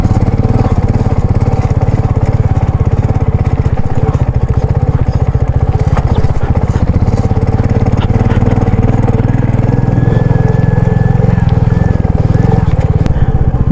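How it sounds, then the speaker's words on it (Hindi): A motorcycle loaded with heavy luggage labours uphill in first gear on a high-altitude road between Kaza and Losar. The engine drones loud and close with an uneven, throbbing rumble, and a voice talks briefly over it. "बाइक जा रही है फर्स्ट गियर पे, सेकंड गियर तो लग नहीं रहा यहाँ पर।"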